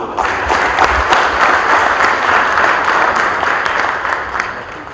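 A full round of audience applause at a startup initiative event, steady dense clapping close and loud for the whole stretch, easing slightly at the end.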